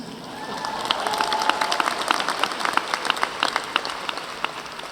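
A commencement audience claps in a steady, dense round of applause that swells and holds, with scattered sharper claps standing out over the crowd wash.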